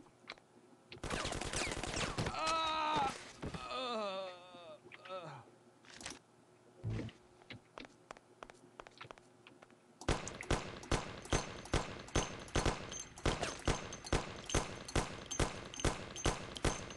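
Gunfire in the video game Mafia, a shootout: a brief burst of shots and scattered single reports, then a long, loud, rapid run of regular shots from about ten seconds on, with a raised voice briefly partway through.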